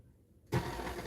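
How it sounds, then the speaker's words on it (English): A KitchenAid stand mixer with a loose bowl that knocks against the beater starts up. After half a second of near silence the motor kicks in with a sudden, loud, close whir. "I've got to hold my KitchenAid"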